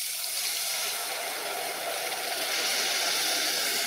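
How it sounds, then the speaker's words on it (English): Water sizzles hard in a preheated cooking pot while making water leaf soup, a loud, steady hiss that fills the clip close by with no talking. "I love to hear that the sizzling sound from the water."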